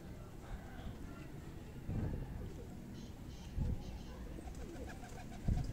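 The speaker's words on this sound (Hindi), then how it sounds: "ये कबूतर है जी," A Kasoori pigeon coos in low, soft, rolling phrases, with three deeper swells spaced a couple of seconds apart over faint background noise.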